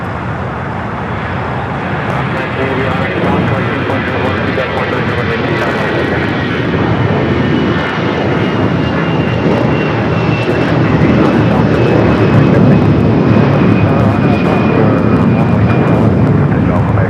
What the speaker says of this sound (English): Always a south side takeoff for the Dreamliner.